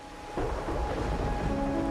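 Thunder rumbles in with a sudden low roll over steady rain in the video game Wuthering Waves, a sustained storm wash after a quiet start, moderately loud and without talk.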